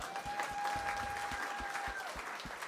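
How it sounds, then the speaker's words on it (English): A room claps in a quiet, steady round of applause at an evening event, with a faint tonal hum running underneath. "Let's give her a round of applause."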